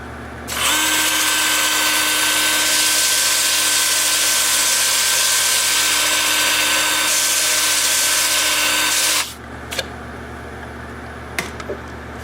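Power sanding a spalted sycamore bowl with a sanding disc, a loud steady whirring grind that runs continuously for about nine seconds, then stops abruptly, followed by a few faint knocks and taps.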